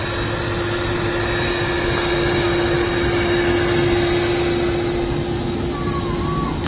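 A TUI Boeing 767 airliner arriving from Malaga at Manchester Airport, heard as a steady, fairly loud jet engine roar that holds evenly throughout.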